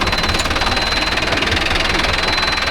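A Mahindra 605 S tractor engine runs steadily while pulling a rotavator fitted with new LJF blades, a loud, continuous knocking diesel drone with rough vibration and no pauses.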